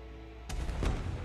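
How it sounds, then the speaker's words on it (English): Fireworks bursting in a Bridgerton season two finale scene: two sharp booms about a third of a second apart, each followed by a low rumbling tail, moderately distant over a faint background. "Oh, perfect. Fireworks."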